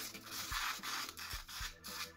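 Sugar and baking soda stirred together in a small container for a glue-free slime, giving a close, steady scraping rub with a few soft knocks and no voice.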